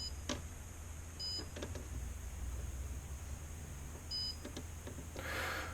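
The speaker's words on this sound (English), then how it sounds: "You can hear the beep." Short electronic beeps from a 3DRudder foot mouse sound on clicks, a few faint high tones spaced apart over a quiet background hum.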